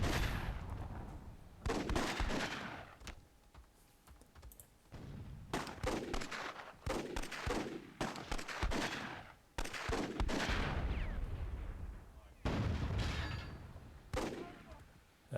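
Cannon and gunfire in the strategy video game Myth II: Soulblighter, played as a World War II scenario: a series of loud, sharp booming bursts in irregular clusters, with brief quieter gaps between them.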